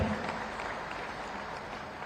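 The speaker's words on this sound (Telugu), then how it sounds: "ఇలా నమ్మిన వాళ్ళు గట్టిగా చప్పట్లు కొట్టండి." Loud, sustained applause from a crowd at a BRS party booth-level agents' meeting, a dense, steady wash of clapping that fills the entire stretch without pause.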